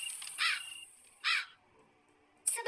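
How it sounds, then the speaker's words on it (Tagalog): Crow cawing in three harsh, separate calls spread across about three seconds, fairly close and clear against a faint, high background hiss, with no voices. "nang makarinig kami ng huni ng uwak"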